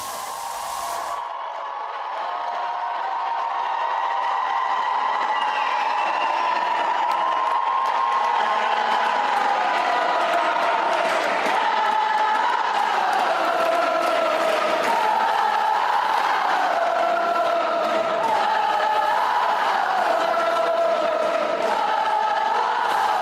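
A large rally crowd cheers steadily as Trump walks out, a sustained roar of voices and shouts rising after a brief quiet start and holding loud throughout.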